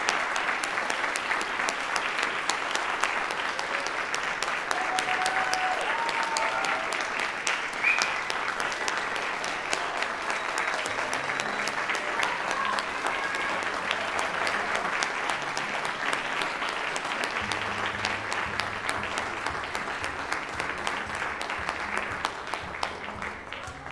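Sustained applause from an audience of nurses at a family nurse practitioner hooding ceremony, a dense steady roar of many hands clapping for the full stretch without a break.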